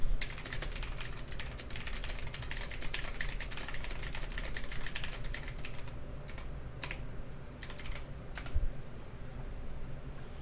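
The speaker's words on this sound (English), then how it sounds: "And then I'm going to type that." Fast, continuous typing on a computer keyboard, heard as dense rapid clicking for about six seconds, then sparse separate key taps at the end.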